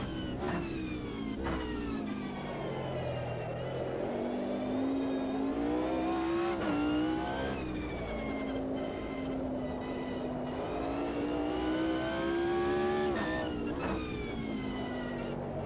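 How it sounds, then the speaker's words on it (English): Race car engine in the Automobilista 2 sim racing game revs hard and continuously, pitch sweeping up through gears with brief dips at shifts, loud and steady throughout with no talk. "This thing just keeps revving."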